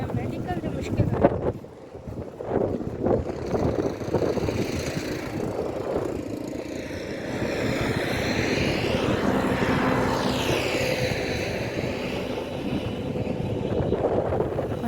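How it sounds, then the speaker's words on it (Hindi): Steady outdoor wind gusting across the microphone on a sunny day at Sindh University campus, a continuous loud rush with a brief dip early on, while people talk throughout. "आप लोगों ने हवा को फ़ील किया होगा, हवा की आवाज़ से"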